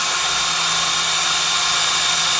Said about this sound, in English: You'll break a drill bit if you put too much pressure on it.